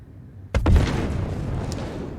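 A single sharp ballistic weapon shot in Star Citizen, a loud close crack followed by a quick second report and a long rumbling decay.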